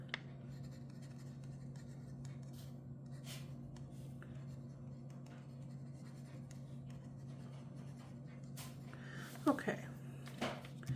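A fountain pen loaded with neon pink ink scratches faintly across paper, the soft writing strokes sitting beneath a steady low room hum.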